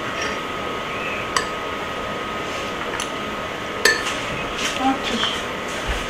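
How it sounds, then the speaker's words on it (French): A utensil scrapes and stirs food in a dish with soft continuous scraping, a couple of sharp clinks against the dish and faint background sounds. "Vas-y, mélange"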